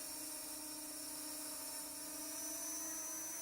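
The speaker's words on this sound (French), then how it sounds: "Donc le drone y va" A C-Fly Dream drone on a waypoint flight test gives off a steady, faint high-pitched whine, its motors droning evenly and at a distance without pause.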